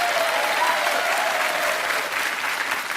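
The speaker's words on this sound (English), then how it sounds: "Joe's happy, he's clapping." Studio audience clapping on the game show Millionaire Hotseat, a loud, steady burst of many hands applauding continuously, with a faint voice briefly heard beneath.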